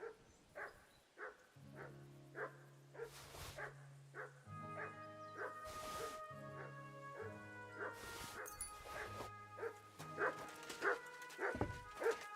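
Dog barking and yipping in the medieval video game Kingdom Come: Deliverance II, repeated short yaps and whimpers over a sustained musical score, fairly close, with occasional sharp louder bursts.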